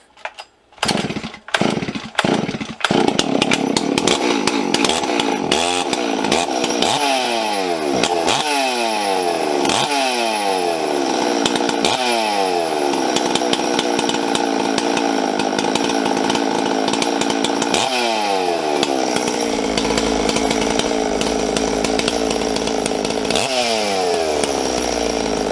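A ported Farmertec MS660 chainsaw with an ignition problem starts with a few sharp pulls, then runs loud and close for a long stretch, its engine repeatedly surging and sagging in pitch.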